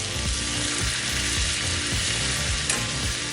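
Butter melting and foaming in a hot pan alongside potatoes, giving off a steady, close sizzle with faint scraping and clinking of a utensil underneath.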